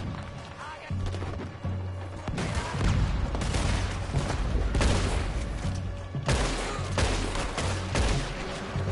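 Rapid bursts of gunfire in Red Dead Redemption 2 crackle and boom continuously, dense and loud, with a voice talking faintly underneath.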